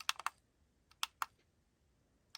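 Pause button being clicked on a 50,000 RPM nail e-file: a few crisp, close plastic clicks in short pairs with quiet gaps between them, heard alone.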